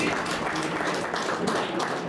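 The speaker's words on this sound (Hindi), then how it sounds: "सभी खिलाड़ी के लिए जोरदार तालियां बजा दें" Dense, loud applause from the audience for the players at a district chess association tournament closing ceremony, continuous crowd clapping with a voice faintly underneath.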